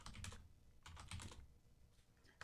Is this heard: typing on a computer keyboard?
yes